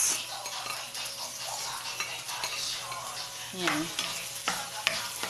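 Onions sizzle in a pan while being stirred for adobo, a soft, steady fry with a utensil scraping and clinking against the pan a few times; a brief word is spoken.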